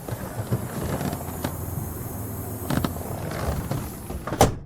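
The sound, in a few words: car tire leaking air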